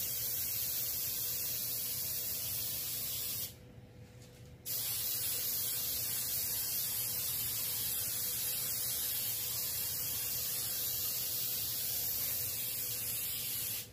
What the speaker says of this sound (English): Let's get our pan all sprayed up.